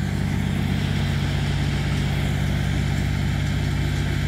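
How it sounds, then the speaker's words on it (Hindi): Tractor working a field beside sugarcane and wheat crops, its engine giving a steady, loud low drone with a fast regular throb, close by and continuous, with no voices. "ये देखिए कितना बढ़िया काम कर रहा ट्रैक्टर"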